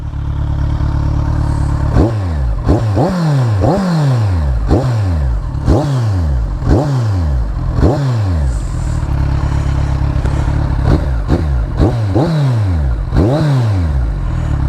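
A 2015 Kawasaki Z1000 with short exhausts and baffles removed is revved repeatedly, each blip rising to a sharp bark and falling away, loud and close.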